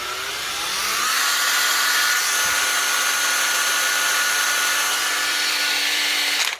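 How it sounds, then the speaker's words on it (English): An old cordless drill rewired to run corded from a 12-volt cigarette-lighter plug spins up with a rising electric whine and then holds a steady, loud, high-pitched motor hum alone before cutting off abruptly. "now it's just a 12-volt corded drill."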